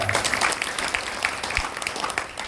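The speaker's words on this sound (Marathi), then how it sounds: "जोरदार टाळ्या" Hearty applause from an audience at a devotional discourse in Parli, a dense, continuous wash of many hands clapping at once, loud and sustained, with no voices over it.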